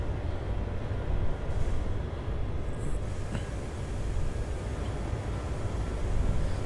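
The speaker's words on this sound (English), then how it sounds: "release the train brake." The train brake releases on Southern Pacific 4449, a steam locomotive hauling a coal drag in a train simulator game: a steady, dense rumble of rolling and air noise continues throughout with no voices, flat and unbroken.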